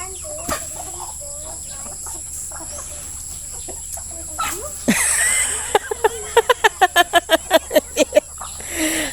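Domestic chickens clucking close by on a rural farm, scattered calls early on, then a rapid run of sharp, rhythmic clucks near the end, with some rustling between.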